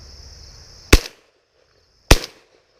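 Two sharp, loud shotgun blasts fired at doves during a hunt near a stand of pines, about a second apart, each with a short decaying echo, over faint insect buzz.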